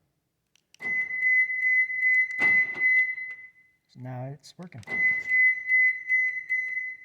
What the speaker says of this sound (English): The extra beeps are just saying that the doors are open.